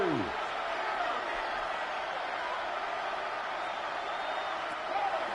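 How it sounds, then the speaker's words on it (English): A stadium crowd in the Madden 26 football video game roars as a broad, steady wash of cheering noise that holds evenly throughout, with a faint tonal sweep at the start. "Well, this crowd into it now."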